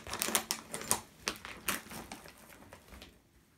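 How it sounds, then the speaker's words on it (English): A zip is undone in short, uneven bursts of crisp ratcheting clicks, close by and fairly quiet, before fading out. "I need to undo this zip."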